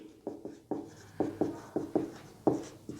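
Handwriting during a geography lesson, a series of short scratchy pen or chalk strokes in an uneven rhythm, close and clear with no talk.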